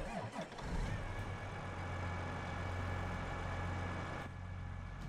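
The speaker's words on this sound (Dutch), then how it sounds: "Dan hebben we de John Deere 9420R." Farming Simulator 22 game sound of a John Deere 9420R tractor engine, a faint low idle rumble that starts with a short cranking sputter, then settles into a steady hum for several seconds.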